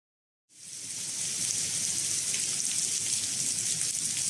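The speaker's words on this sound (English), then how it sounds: "It started pouring" Heavy rain bursts into a downpour at the Imperial Ancestral Temple, a dense steady hiss of water that rises quickly from silence and holds loud and constant with no voices.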